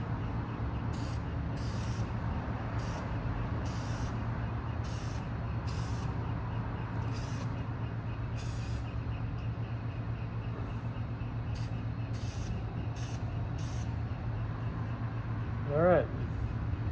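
Short repeated bursts of spray from an aerosol can as oil is applied to a cleaned K&N air filter, the hisses close and crisp over a steady low hum from nearby machinery.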